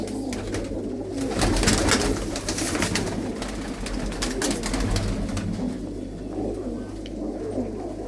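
Blue-footed pigeons cooing in a loft, a steady low murmur of overlapping coos with wing flutters and rustling, close and continuous.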